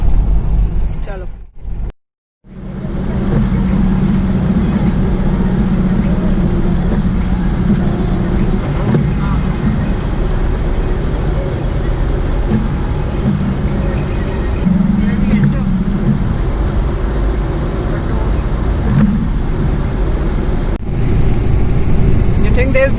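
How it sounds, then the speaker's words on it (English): A car driving through a snowfall blizzard on an off-road route in Kashmir, a steady loud engine and road rumble from inside the cabin with a brief dropout early on, continuing unbroken throughout. "It's really nice to drive in the snowfall."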